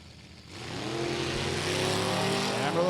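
A 1964 Nova with a 406 small block and a Plymouth pickup with a big 440 launch at a hot rod reunion drag race, engine noise swelling from a quieter idle into a loud, steady roar.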